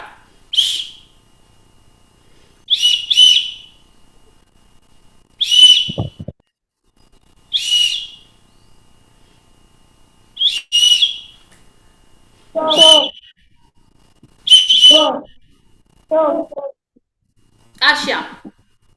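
Short sharp whistle blasts for a children's stop-and-go game at a junior class vacation Bible school, sounding singly and in pairs at regular intervals, with children's voices calling out between some blasts.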